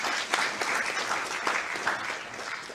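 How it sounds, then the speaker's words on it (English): A congregation at a memorial service applauds after a tribute, producing dense, continuous clapping with a few louder bursts, sustained evenly for the whole stretch. "I think that deserves another round of applause"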